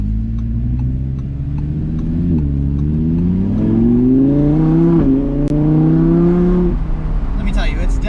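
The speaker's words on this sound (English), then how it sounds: "That's the 620 horsepower naturally aspirated V10 engine, obviously." A naturally aspirated 620-horsepower V10 in a 2020 Audi R8 Decennium revs hard with its exhaust open, its loud rising howl climbing in steps through the gears before easing off near the end.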